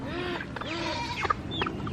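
Several chickens cluck and murmur in short, overlapping calls, fairly close, with a louder squawk near the middle; no talking.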